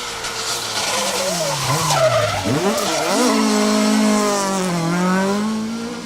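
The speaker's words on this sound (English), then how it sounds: "Richard Clues and Carl Williamson in their Impreza STI, and they're being chased down hard" Subaru Impreza STI rally car skidding hard on a closed stage at the Manx Rally, a loud engine note rising and falling with sliding tire noise throughout, close and continuous.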